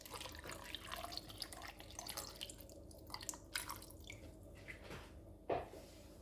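Water trickles and splashes steadily with scattered drips, ending in a brief sharp clink.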